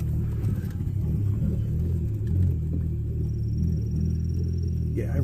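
An Audi B5 with a manual clutch and a junkyard recirculation valve idles with a steady low engine rumble throughout, close and continuous, with no clear separate restart.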